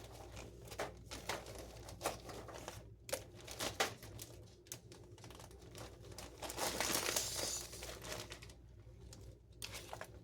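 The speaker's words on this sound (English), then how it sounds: "I'm adding in about a half a bag of frozen peas" Frozen peas, about half of a 12-ounce bag, poured into a slow cooker, giving a quick series of light crinkling rattles and patters that swell briefly partway through.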